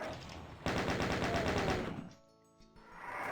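An enemy chaingunner firing in the classic video game DOOM, a loud rapid burst of machine-gun shots lasting over a second and then cutting off abruptly into quieter game sounds.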